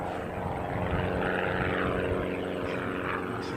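An airplane takes off with a loud, continuous engine roar that stays strong and close throughout, its pitch shifting slightly as it climbs, and no one speaks over it.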